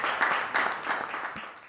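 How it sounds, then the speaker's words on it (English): Scattered audience applause for the volunteers at a vegan cookie community event, fairly faint and brief, a soft patter of clapping hands. "Give it a round of applause for the volunteers."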